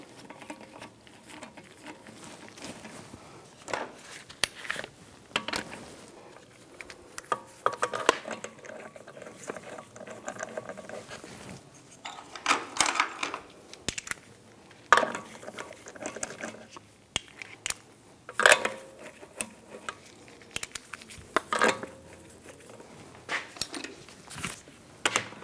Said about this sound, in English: Put the wheels on, get those lined up. Get the lug bolt started.